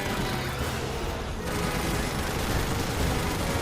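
Rotary gun in the Starship Troopers: Extermination video game firing a steady, dense stream of rounds, a loud continuous rattle with a brief dip in the middle before resuming at full intensity.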